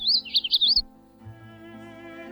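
A magnolia warbler sings a short, high, rapid phrase of sweet chirps lasting under a second, clear and near, followed by a faint steady hum.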